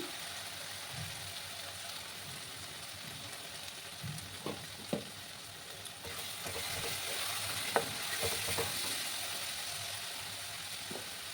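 Spices with turmeric fry gently in a pan with a quiet, continuous sizzle, broken by occasional scraping and clinking taps as a spoon stirs them.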